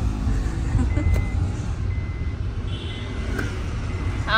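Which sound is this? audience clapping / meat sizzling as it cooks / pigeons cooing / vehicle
vehicle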